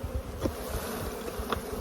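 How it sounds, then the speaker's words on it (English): Honeybees buzzing in a dense, continuous drone, close and steady, with a few louder passes as individual bees fly near. "So we're going to shake these bees off"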